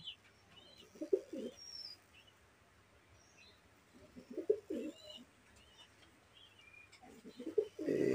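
A pigeon coos in three short low bursts spaced a few seconds apart while its wing feathers are being trimmed, with faint chirps and quiet rustling in between.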